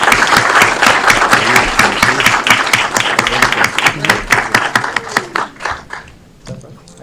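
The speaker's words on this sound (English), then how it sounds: "Give them a round of applause as they make their way down." Audience at a city council meeting claps loudly and steadily for several seconds, with the applause thinning to a few scattered claps near the end.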